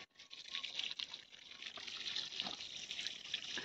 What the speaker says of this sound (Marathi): हा तेव्हा असं टाकतोय पाणी